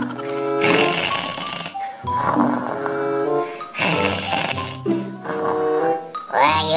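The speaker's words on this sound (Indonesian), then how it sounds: "Wah, Yuta ngorok." A cartoonish game snore from a sleeping character in Sakura School Simulator repeats in about four long tonal cycles, each separated by a brief pause, loud and close with no talking.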